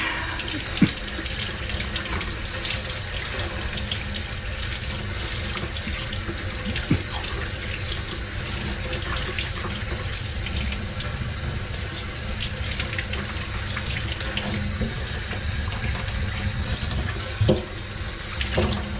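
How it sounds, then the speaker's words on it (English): Water from a sink faucet runs steadily and fills the space as a Preval paint sprayer is rinsed under it, a continuous broadband splashing flow with a few small knocks and clatters of the sprayer against the basin. "Rinse this guy in the sink."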